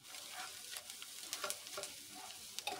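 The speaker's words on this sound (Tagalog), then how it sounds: "Bawang gisa sa butter para sa ribs." Garlic sautéing in butter for ribs, a soft continuous sizzle with scattered crackles and light stirring scrapes, fairly quiet and close.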